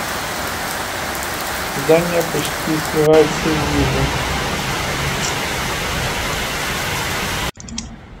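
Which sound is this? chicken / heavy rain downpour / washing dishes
heavy rain downpour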